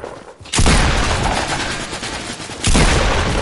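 Bursts of rapid gunfire in the Fortnite video game, loud and close: a short gap, then a sustained volley of shots and a second burst near the end, with no talking.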